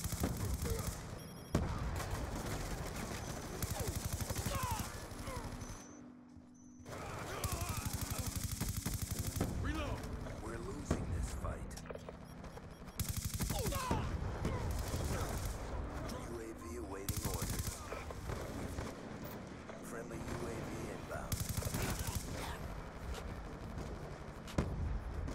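Rapid gunfire from Black Ops 2 crackles in dense automatic bursts almost continuously, with a brief lull, loud and close in game audio, while a player talks over it.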